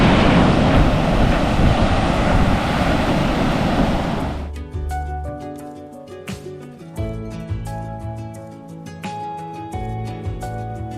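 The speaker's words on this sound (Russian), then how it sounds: "и огромные волны" Large ocean waves crash on a Cancun beach with a loud, continuous roar of surf for about four seconds before music takes over.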